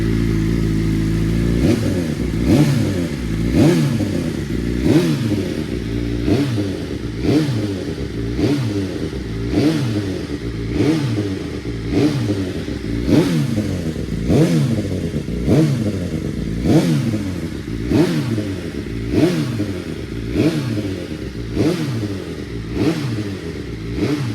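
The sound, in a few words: BMW M1000RR race motorcycle engine running and revving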